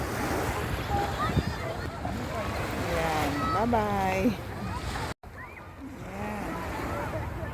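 Strong sea waves at Fahaheel, Kuwait, a constant rushing wash heard under wind noise on the microphone, with people talking over it throughout and a brief dropout near the end.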